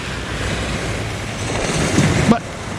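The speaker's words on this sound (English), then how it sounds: "So right now we are at the Divi Beach" Surf and gusting wind roar steadily on Divi Beach in Aruba during a rare tropical storm, a loud continuous wash of waves with buffeting wind on the microphone.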